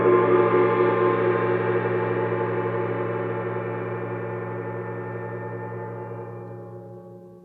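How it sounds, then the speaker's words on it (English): A gong in an orchestra's percussion section is struck once, loud and close, and its rich, shimmering tone sustains and slowly decays over several seconds with no other sound. "It's one of our favorite instruments to play in the percussion section, the gong."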